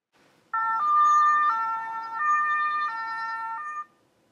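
A two-tone siren alternates high and low pitches steadily for about three seconds, loud and clear, then cuts off abruptly.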